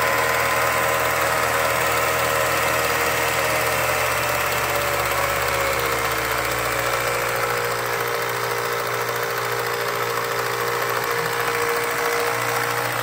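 A Revere P90 8mm film projector runs with its clutch engaged, giving a steady close mechanical whir and hum with a fast even rattle and a low motor drone throughout.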